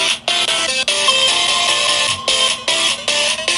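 A Google Pixel 3 plays a ringtone through its own speaker: a loud, bright, repeating electronic melody of short tonal notes with brief gaps, heard alone.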